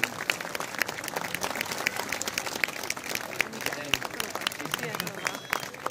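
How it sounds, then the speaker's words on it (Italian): Audience applause at a Mestre celebration greets Michele Cipollato, a dense, steady patter of many clapping hands filling the hall for several seconds with crowd noise mixed in. "un applauso, un applauso lo merita"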